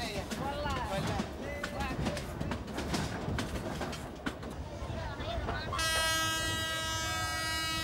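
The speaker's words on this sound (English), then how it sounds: "When the train makes a stop" A train rumbles and clatters steadily with voices and birds around it, then a long, loud horn blast sounds near the end.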